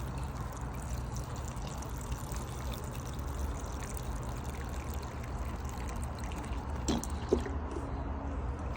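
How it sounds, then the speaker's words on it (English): Water poured into a container of soil amendments for a bioassay test, a steady low trickling and pouring wash that runs throughout, with a brief clink near the end. "filling that up with water."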